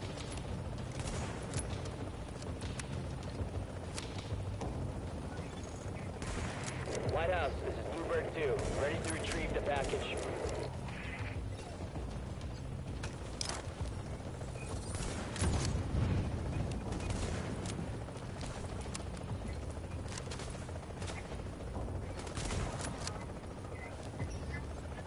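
Gunfire in The Division, a third-person shooter, with bursts of shots and clattering weapon mechanisms spread through a steady, busy game mix, moderately loud and ongoing throughout.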